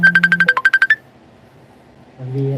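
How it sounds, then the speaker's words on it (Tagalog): A cellphone ringtone plays a rapid series of about ten bright electronic beeps at close range, loud and rhythmic, then stops, followed by a short silence and a low tone. "Cellphone."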